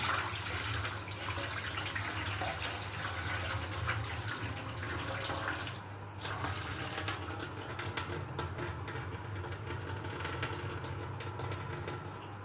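Water pours steadily into a pot of lentils and rice in a village kitchen, a continuous splashing rush lasting throughout with no talk.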